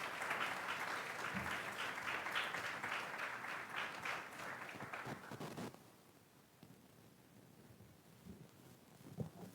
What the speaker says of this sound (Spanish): Ese fue un muy merecido aplauso para los autores.